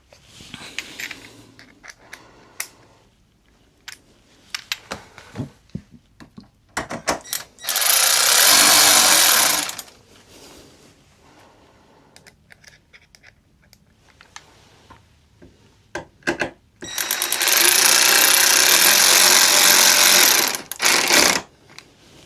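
Two bursts of a power driver running screws into the front wing of a 2025 Aprilia RS660 Factory motorcycle, each lasting a couple of seconds, separated by light clicks and handling taps, close and loud.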